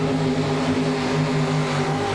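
Chevrolet-powered 4WD pulling truck at an Owensboro, Kentucky truck pull in 1991, its engine roaring loud and sustained at high RPM with steady harmonic drone throughout.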